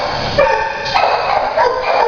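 Dog barking at an animal shelter, a steady chorus of high yips and barks that overlap and repeat with no pause, loud and fairly near.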